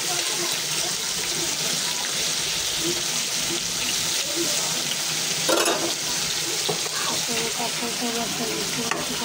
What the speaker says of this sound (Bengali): মাছটা ভাজা হইলে আমি মুরগিটা ভেজে নেব।